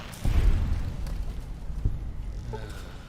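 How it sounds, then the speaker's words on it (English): A muffled, low booming blast as boomer enemies explode in a video game, heavy at the start with a second thump shortly after, and little talk around it. "Oh, they're gonna explode."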